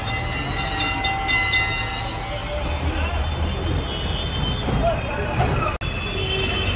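A tram rolls along a city tram line in Esplanade, Kolkata, with a steady rail rumble and faint squeal amid busy street traffic, while people talk throughout.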